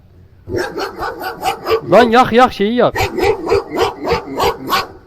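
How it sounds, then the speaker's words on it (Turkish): A dog barks repeatedly inside the Turkish horror video game İfrit, a steady run of close, loud barks with a short whimpering, yelping stretch in the middle, and someone speaks over the barking. "Oğlum köpek sesi geliyor lan."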